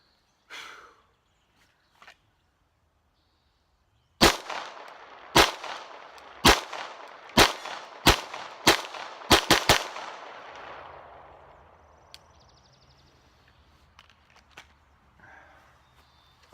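A handgun fired in a shooting drill: nine sharp, loud shots in quick succession, the last few bunched tightly together, then a fading echo and quiet shuffling.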